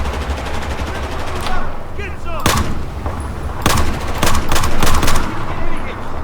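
Loud, rapid gunfire from the Battlefield 4 Singapore mission, several sharp bursts and single shots cracking in close succession over a constant battle din, with someone talking underneath.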